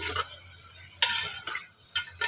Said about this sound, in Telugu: ఒక్క 2 నిమిషాలు ఆయిల్లో మగ్గనిద్దాం